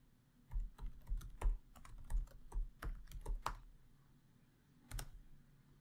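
A passphrase being typed on a computer keyboard for unlocking an encrypted Raspberry Pi disk: a quick burst of crisp, close key clicks at an uneven pace, a brief pause, then one final keystroke like pressing enter.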